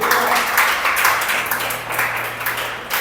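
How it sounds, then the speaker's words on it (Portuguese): A church congregation applauding, giving broad sustained clapping that fills the room at a fairly loud level and fades slightly toward the end. "Dê um aplauso a Jesus por isso."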